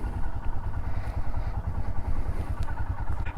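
A Royal Enfield Himalayan motorcycle on a spring rally rumbles nearby with a steady, throbbing low engine note and a faint clatter, holding constant loudness throughout.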